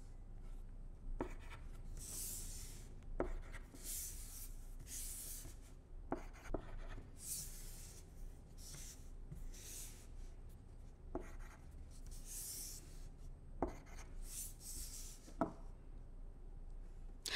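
A pencil scratches numbers onto a paper math worksheet in a quiet room: faint, close strokes in short repeated bursts with pauses between them.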